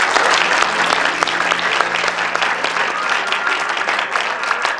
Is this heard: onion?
no